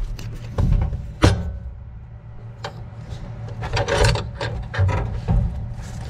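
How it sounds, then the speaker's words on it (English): Close ratcheting and grinding clicks of a wrench turning a fitting on a hotdog cart steam tank, in short bursts with scraping and knocks in a cramped space. "let's see if we can turn some wrenches."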